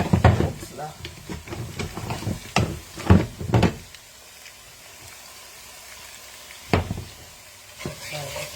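Bongo, a Bassa fish sauce with salted, marinated fish, simmers and sizzles in a pot while a spoon stirs it in bursts of scraping clatter, with quieter simmering between.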